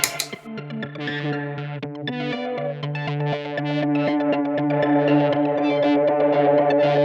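A guitar or synth sequence of repeating notes runs through a Meet Maude pedal in a Eurorack setup, adding a wobbling, tape-like pitch modulation that thickens the sound, steady and loud.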